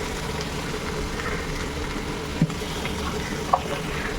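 Spice paste with chilli powder and salt fries in a pan for a Bengali fish curry, giving a steady, even sizzle, broken by two brief metallic clinks of a spoon against the pan.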